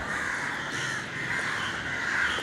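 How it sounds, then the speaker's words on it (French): Crows and other birds on a tropical private island in Malaysia caw and squawk loudly, a dense continuous chorus of overlapping calls with no voices. "ils font un de ces bordels les oiseaux ici"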